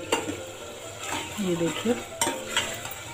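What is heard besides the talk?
adding ginger garlic paste to frying masala in pan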